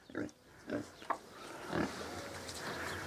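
Pigs in a muddy farm paddock grunt and oink repeatedly in short close bursts, with a low background murmur and a voice speaking quietly alongside.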